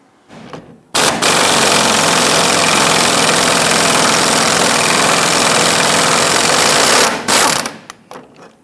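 A power ratchet on a swivel spins a sway bar end link nut off a 2011-2021 Jeep Grand Cherokee, a loud, sustained buzzing whir lasting about six seconds with brief clicks before and after.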